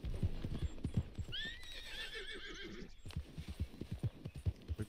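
A horse in Red Dead Redemption 2 walks with a steady clip-clop of hooves and gives a clear, drawn-out whinny midway, fairly close and moderately quiet.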